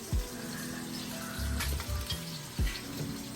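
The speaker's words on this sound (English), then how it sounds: "His grease popping." A burger frying in hot grease gives a constant dense sizzle with occasional sharp pops and low thumps standing out, close and fairly loud, with no talking over it.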